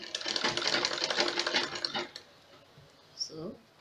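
A sewing machine stitches fabric for an umbrella skirt in a fast, close, rattling run of about two seconds. Then it stops, and quieter handling noises and a brief voice follow.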